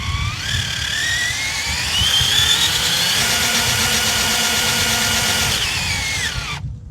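A Traxxas TRX6 RC truck on wet terrain revs its electric motor in a steady, loud whine that climbs in pitch and holds, with the clutch slipping under load, before cutting off abruptly at the end.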